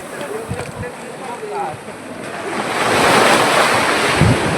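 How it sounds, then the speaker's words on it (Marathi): Ocean surf rolls onto a Goa beach, a broad wash that swells louder toward the end, with wind buffeting the microphone and people talking nearby. "इथे लाट येणारच आहे"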